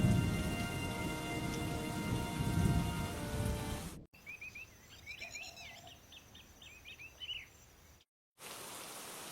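Heavy rain falls in a dense, loud hiss with low rumbling at first, then the sound cuts to a quieter rainy scene with birds chirping close by, before rain noise returns.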